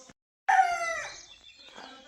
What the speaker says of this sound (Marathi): कोंबड्यांचा आवाज बघा.